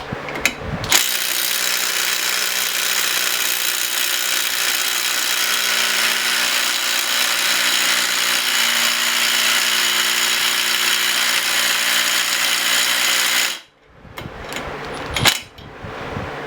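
A Milwaukee cordless impact wrench rated at 100 foot-pounds hammers continuously on a stubborn bolt, a loud, dense rattle lasting about thirteen seconds before stopping, followed by a few short clanks.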